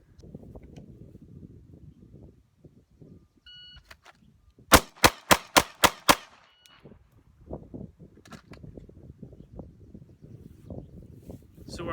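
Six pistol shots crack in quick even succession during a bill drill, loud and close after a timer beep, with someone talking before and after.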